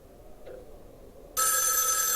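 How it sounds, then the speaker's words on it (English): A telephone bell in the 1974 horror film Black Christmas cuts in partway through, ringing loud, bright and continuous after a quiet stretch with only faint room tone. "Oh, pick up the phone again."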